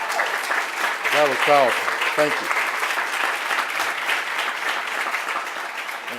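An audience at a speaker-series lecture applauds in a steady, dense round of clapping lasting throughout, while someone speaks briefly over it near the start.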